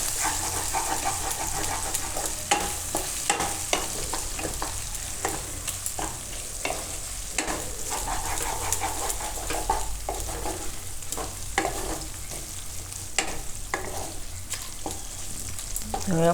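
Chilli and potato curry with turmeric frying in oil, a constant sizzle broken by repeated scraping and knocking as a spoon stirs the pan, with no talking.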